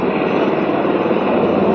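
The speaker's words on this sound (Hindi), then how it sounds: "अभी हेलीकॉप्टर जो है उड़ान भरने वाला है" A helicopter taking off from a pilgrimage site, its steady, loud rotor and engine roar filling the whole moment without any talking.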